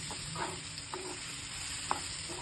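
Nenthra banana pieces roast in a pan with a soft, steady sizzle while being stirred, with occasional light scraping clicks of the spoon against the pan and no talking.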